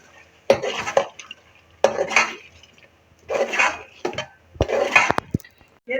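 A utensil scrapes and clatters rhythmically against a pan as homemade cream is stirred and fried for Afghani egg gravy, in four distinct bursts of stirring separated by brief pauses, close and clear.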